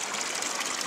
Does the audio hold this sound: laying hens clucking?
no